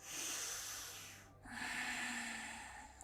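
A final deep inhale during a yoga session, a faint, close breath drawn in steadily, pausing briefly, then continuing with an airy rush, and no voices.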